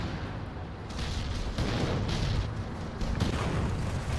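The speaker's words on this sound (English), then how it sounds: "That artillery won't let them push." Continuous rumbling artillery barrages in the VR strategy game Final Assault, dense booms and blasts layered over one another at steady loudness, with no talk.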